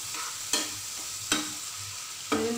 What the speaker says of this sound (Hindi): तो अब मैं इसको थोड़ी देर के लिए फ्राई करूंगी